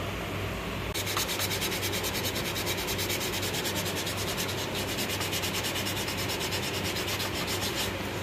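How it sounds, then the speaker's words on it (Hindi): Car brake pads are ground smooth with a steady abrasive rasping that runs continuously and loud after a brief quieter start, with no talking. "देखिए आप ब्रेक पैड्स को हम जब घिस रहे हैं तो ये प्रॉपर क्लियर हो गए"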